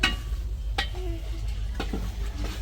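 Spices being sautéed in a pot for biryani, a low sizzle under stirring with a few clinks of a spoon against metal, close and fairly loud.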